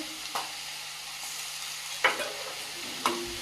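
Onions fry in a pan with a low, steady sizzle, punctuated by three distinct spatula scrapes spaced apart over a few seconds, with no voices.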